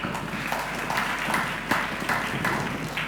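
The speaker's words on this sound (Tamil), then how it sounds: "கைத்தட்டுங்க பார்க்கலாம்." A congregation at a Sunday church service claps hands together in a steady, dense patter that fills the room throughout, with no break and no talk over it.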